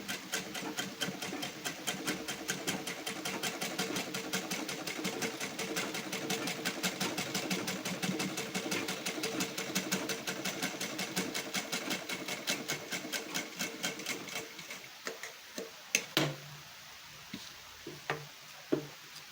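A sewing machine runs steadily, stitching a fabric strip onto a prince-cut garment, making a rapid, even ticking whir for about fifteen seconds. It then stops, leaving a few sharp clicks and handling noises.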